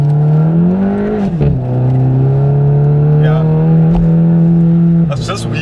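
A VW Golf Clubsport S on Toyo R888 tyres pulls hard in second gear, its engine droning loud and steady as the wheels spin for traction, with a brief dip between gears and someone talking over it.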